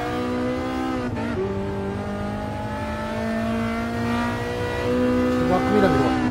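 Race car engine revving and accelerating through gears in Gran Turismo Sport, a steady whine rising and shifting in pitch, with a voice talking over it throughout.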